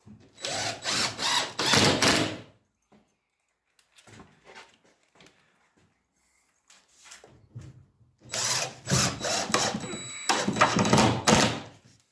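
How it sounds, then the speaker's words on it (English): A power drill drives screws into ceiling plasterboard in two loud whirring bursts at the start and end, separated by a quiet stretch with faint clicks and handling noise. "Try not to sink the screws in too deep."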